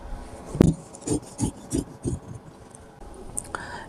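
Scissors cutting shirt fabric in a straight line for a men's loose-fit formal shirt, heard as a short series of about six crisp snipping and rasping cuts, close and fairly even, followed by a brief quiet rustle.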